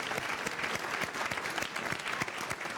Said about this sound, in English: Minister, Andrea, and Will, a big hand of applause for our panelists today